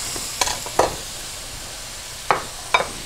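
Sausage in natural casing simmers in a pan under a soft, low sizzle, broken by a few sharp clicks and scrapes heard close by.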